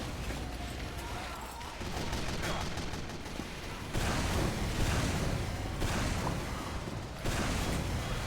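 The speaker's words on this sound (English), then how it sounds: "I didn't mean to shoot that last rocket." Team Fortress 2 rocket launcher fire over a busy match, with several punchy launches and blasts arriving in clusters over constant gunfire and mechanical clatter, moderately loud and mixed into the general game noise.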